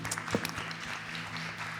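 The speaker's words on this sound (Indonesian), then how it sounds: "Yuk mari kita beri tepuk tangan buat Tuhan." A church congregation at a Sunday service gives brief, fairly faint applause, a dense patter of many hands clapping together.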